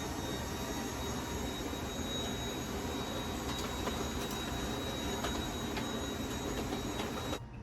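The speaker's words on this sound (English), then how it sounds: "I love my Dyson. Now I'm just going to use it as a handheld thing for the top of the mantle." A handheld Dyson vacuum cleaner cleaning the top of a mantle, a loud, steady motor whine with a thin high tone running without a break, then cutting out at the end.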